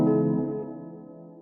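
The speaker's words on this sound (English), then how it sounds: "So I have this lo-fi piano that I had in Serum." A single lo-fi piano chord from a Serum synth patch rings out and slowly decays, warm and mellow, heard alone.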